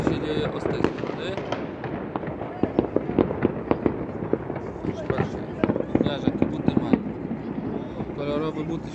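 Firecrackers and fireworks burst in rapid, irregular cracks and bangs on New Year's Eve in a city, some close and loud, others distant, with a voice talking over them.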